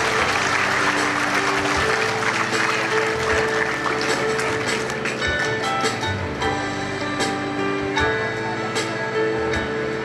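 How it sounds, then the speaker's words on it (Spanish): Audience applause for a graduate at a taekwondo black belt ceremony, a loud sustained clapping wash mixed with background music and some crowd noise throughout. "Le pido a toda la concurrencia brindarle calurosos aplausos para Alex Gregorio."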